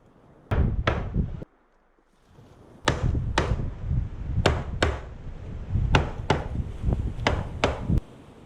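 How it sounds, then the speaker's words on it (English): A hammer taps iroko staircase timber together in sharp, close knocks, mostly in quick pairs with brief pauses between, ringing solidly off the hard wood. "I just use the hammer to tap everything together, just shock it in place"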